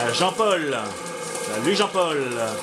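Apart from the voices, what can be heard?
No everyday noises stand out.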